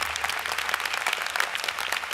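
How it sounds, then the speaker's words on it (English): Audience at a Rutgers–Camden commencement giving a round of applause: dense, steady clapping from a large crowd, moderately distant and even throughout, with no voices on top. "can I just get a round of applause for her?"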